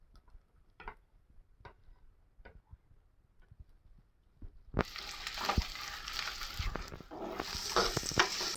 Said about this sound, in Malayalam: ഇതിൻ്റെ പച്ചമണം ഒന്ന് മാറുമ്പോൾ നമുക്ക് സവാള അരിഞ്ഞു വെച്ചത് ഇടാം. സവാളയും പച്ചമുളകും.